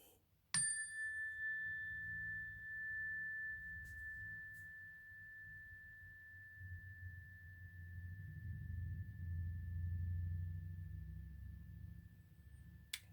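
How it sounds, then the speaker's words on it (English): A single bright chime struck once, ringing out in a long, pure sustained tone that fades slowly over a quiet, low room rumble. "we will bless this video with a chime"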